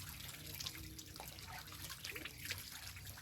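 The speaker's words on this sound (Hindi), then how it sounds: "तो यही झरना है, इसी झरना में" Water flowing steadily at a small waterfall, a continuous close splashing rush with no voices.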